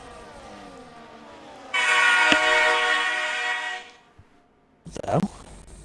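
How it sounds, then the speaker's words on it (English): A train sound effect plays on a Formula 1 race stream at Belgium: a loud, blaring, horn-like whoosh holds for about two seconds, then fades. A brief noisy burst follows, with quiet background sound around it. "It's meant to be a train."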